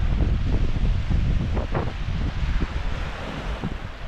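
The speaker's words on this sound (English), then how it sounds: "it was pretty choppy, very, very windy" Strong wind with gusts of 30 to 40 mph roars across the microphone while choppy water on Loch Lomond slaps and splashes steadily underneath during a stormy canoe trip.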